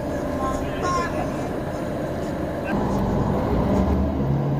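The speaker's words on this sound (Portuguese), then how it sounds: "2 autocarros numa rua estreitinha" Two buses passing on a narrow street, a continuous traffic rumble of heavy engines that thickens toward the end, with a voice talking over it.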